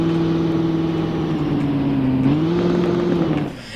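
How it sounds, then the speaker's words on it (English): Chevrolet Camaro V8 engine in the Roblox game Driving Empire, holding a steady loud rev that dips slightly and rises again before cutting off near the end, heard alone without talk. "so that is the sound of the Camaro"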